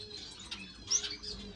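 Finches, including parrot finches, waxbills, Gouldians and silverbills, chirp in an indoor bird room: a few faint, scattered tweets with one brief, brighter chirp midway over a quiet background.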